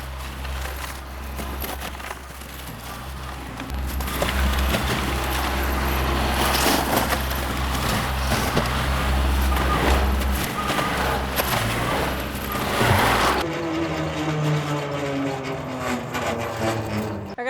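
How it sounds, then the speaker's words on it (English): A Baumalight MP348 forestry mulcher mounted on a tractor chews through a clump of wood, a loud continuous roar with grinding, splintering crunches, then drops off sharply near the end, leaving the lower engine drone. "Let's tear up this clump right here and get this area finished"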